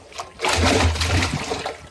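Crabs thrash and splash in water, a close, loud burst of splashing lasting over a second, with a faint voice nearby.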